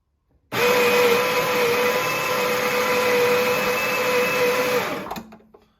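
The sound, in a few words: Baratza Sette 270 grinder grinding coffee beans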